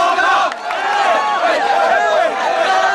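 A large crowd of Hong Kong football fans celebrating a victory over Japan, loud excited shouting and chanting voices overlapping in a dense roar of cheers.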